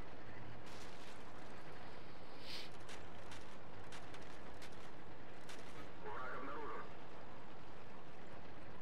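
Scattered video-game gunshots crack at irregular intervals, some sharp and close, others dull and distant, over a constant noisy background.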